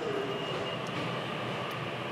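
An express train in Tokyo running toward Shimokitazawa, with a steady, loud rumble of wheels and carriage noise filling the whole stretch and no voices.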